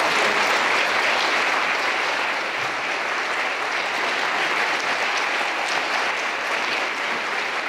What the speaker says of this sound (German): Man muss mindestens so lange klatschen, bis die Leute auf der Bühne sind.